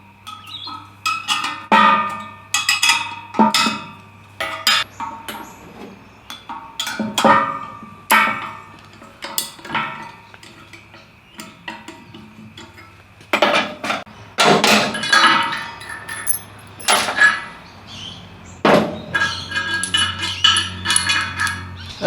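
The wedge comes off a 40-ton log splitter with a 19mm spanner and a large flat screwdriver, giving irregular metallic clanks, taps and scrapes, close and fairly loud, with no talking.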